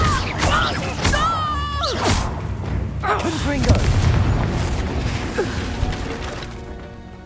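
Spells crackle and an explosion booms in the Hogwarts Legacy video game, with whooshing magical effects and crashing impacts layered over a player's voice calling out during combat.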